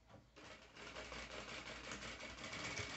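Sewing machine stitching along a strip of fabric for a watermelon-print dungaree, starting after a short lull and then running as a steady, quiet, rapid whir to the end.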